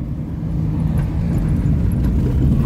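A Porsche Carrera GTS engine heard through the opened window of a Ford Del Rey, a loud, steady low rumble that holds close and constant throughout.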